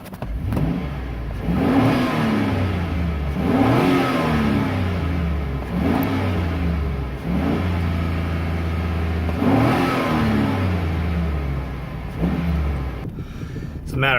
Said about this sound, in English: we're going to give it some good revs, get the engine warm, real warm